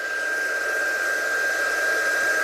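A heat tool blows steadily to dry freshly stamped ink, giving a continuous, even whirring hiss with a thin high whine, close and unbroken with no talking.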